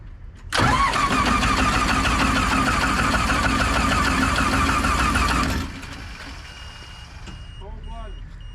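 A stubborn combine harvester engine catches, going from silence to a loud, close, rough roar that holds steady for about five seconds, then drops to a lower idle while a voice speaks faintly.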